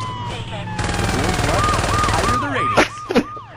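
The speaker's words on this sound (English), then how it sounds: "I'm just sitting here with a machine gun just going nuts." Rapid machine gun fire rattles loud and close in Saints Row 2, a dense unbroken burst followed by a few sharp separate shots, with a warbling siren-like whine sweeping through the background.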